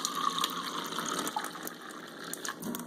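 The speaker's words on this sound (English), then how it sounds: "so this is alkaline water coming out of here, and this is acidic water coming out of here" Alkaline water pours from an Enagic water ionizer in a steady, close splashing stream, running alone without any talk for about three seconds.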